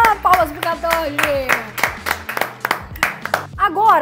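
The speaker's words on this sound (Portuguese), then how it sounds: "palmas pro Catocha!" Several sharp claps ring out in quick bursts, mixed with voices and background sound, loud and close.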